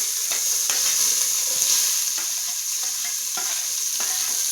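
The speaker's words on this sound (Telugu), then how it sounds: "ఇప్పుడు ఉల్లిపాయలు వేస్తున్నారు" Sliced onions sizzle loudly in hot oil in a pot for dum biryani, a steady bright frying hiss with occasional stirring scrapes and clinks, close and continuous with no talking.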